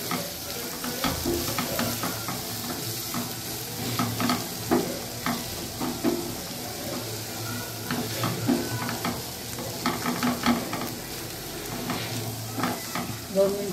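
Finely chopped onion fries with okra in a hot pan, giving a steady sizzle under repeated scraping strokes of a stirring spoon, loud and close throughout.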